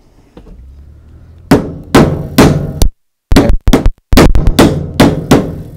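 A hole punch struck with a hammer through a leather belt resting on an anvil: roughly a dozen sharp, loud metallic blows, spaced unevenly and sometimes in quick pairs, with a short silent gap midway.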